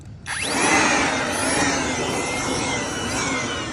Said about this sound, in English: So I'm gonna use a job site blower here.